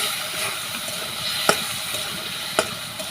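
A hilsa fish head fries in spice paste in a pan, giving a steady bright sizzle and hiss with two sharp clinks of a stirring spoon against the pan.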